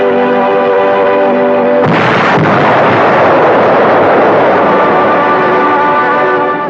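An ammunition dump explodes amid the Bombay Harbor fire: a loud broadband blast bursts in after a steady low drone, then a sustained rumbling roar that fills the rest of the clip.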